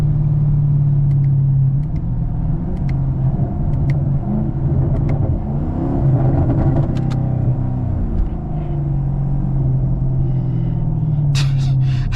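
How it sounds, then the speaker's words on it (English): A Chevrolet Camaro 2SS engine rumbles steadily in traffic, low and continuous, with a few light clicks and a brief hiss near the end. "Car sounds so crazy, bro."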